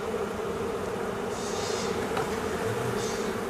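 Honeybees buzzing in an open beehive during a frame check: a steady, dense, close hum of many bees that runs throughout at even loudness, with no talking.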